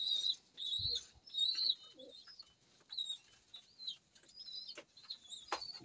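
A courting pigeon coos in repeated throaty rolling phrases, close and clear, with short pauses between calls and a few faint wing or body rustles.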